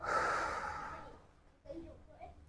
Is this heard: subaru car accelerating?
no